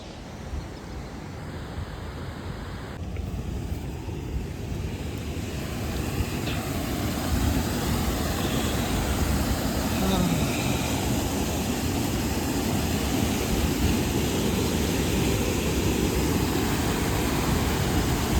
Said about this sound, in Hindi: भाई ये राजा रानी रोरर रॉकेट यही सब ये झरने हैं।